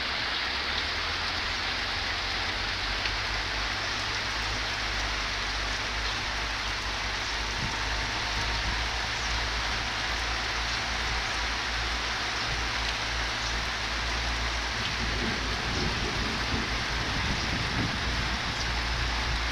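Heavy rain falling steadily over a rice field being plowed, a dense, loud, continuous hiss with a low machine rumble underneath throughout, no voices.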